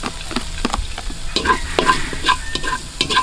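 Garlic sizzling and being stirred in hot oil rendered from spare ribs, cooked outdoors; crackling fry with repeated scraping stir strokes, close and fairly loud, no talking.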